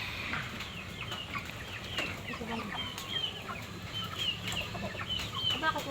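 Backyard pet chickens cluck and chirp while being fed, a busy mix of clucks and short calls at moderate distance over a low background murmur, faint and continuous throughout.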